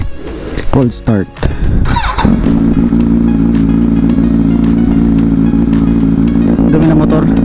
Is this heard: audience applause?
no